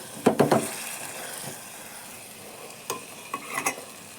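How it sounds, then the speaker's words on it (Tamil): Tomatoes with vegetables get sautéed in a pan, with a soft, faint sizzle under a few sharp scraping stirs in quick bursts, near and otherwise fairly quiet. "ஒரு டூ செகண்ட் வதக்கிக்கலாம் அது கூட தக்காளி சேர்த்துக்கலாம்"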